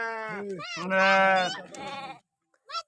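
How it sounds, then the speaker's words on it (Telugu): Several loud, wavering lamb bleats up close, one after another, followed by a brief pause and a short final bleat. "మధ్యలో మళ్ళీ ఆ గొర్రెలు వస్తున్నాయి"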